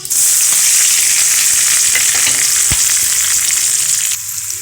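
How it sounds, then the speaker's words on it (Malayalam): Spices for tempering sizzle and crackle loudly in hot oil for a Kerala moru curry, a steady close frying hiss that runs without a break and drops away just before the end. "നമുക്കിനി വറവിടാനുള്ള സാധനങ്ങൾ ഇടാവേ."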